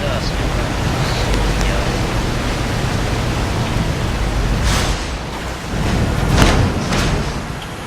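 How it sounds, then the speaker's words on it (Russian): A waterfall in the video game Soma pours as a steady, dense roar of rushing water that fills the whole scene, with a few brighter splashy surges near the end. "Водопады. Круто."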